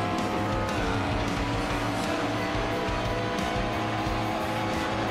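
Stock car engines in a sim racing game drone steadily at high revs throughout, a dense continuous roar with slight pitch wavering and no pauses.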